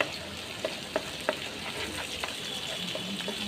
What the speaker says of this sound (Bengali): রসুন দিয়ে আমি প্রায় 5 মিনিট নাড়াচাড়া করে নিতেছি।